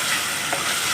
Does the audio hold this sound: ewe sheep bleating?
no